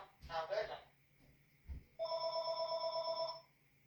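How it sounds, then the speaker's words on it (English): A telephone rings at a garden-side table in about ten steady electronic trills, fairly loud and close, after a few seconds of a person talking and brief handling thumps. "Phone is ringing."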